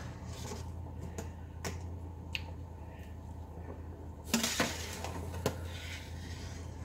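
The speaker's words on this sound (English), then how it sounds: "I'm just going to start spooning them into cold water." Boiled potatoes are spooned into a bowl of cold water in a home kitchen. Soft scrapes and a few sharp metallic clinks and splashy knocks sound over a steady low hum, with a small cluster of louder clatters near the end.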